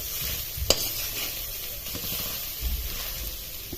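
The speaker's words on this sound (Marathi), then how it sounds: "एकसारखं हलवत राहायचं" Grated coconut fries in ghee, stirred without pause: a close, steady sizzle and hiss with scraping stirring strokes and a sharp clink near the start, no voices.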